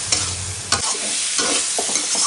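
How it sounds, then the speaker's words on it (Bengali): Eggplant pieces fry with spices in a hot pan, a loud close sizzle broken by a couple of sharp scraping stirs of a spatula. "আমি বেগুনটাকে অল্প ফ্রাই করে জল দিয়ে দেবো"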